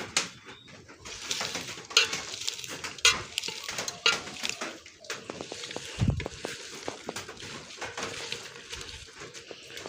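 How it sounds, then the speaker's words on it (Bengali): Raw ingredients are mixed together by hand with salt before oil is added, giving soft irregular squelching and rustling with light clinks of a bowl, close and fairly quiet throughout. "এখন সবগুলো উপকরণ একসঙ্গে মাখাবো।"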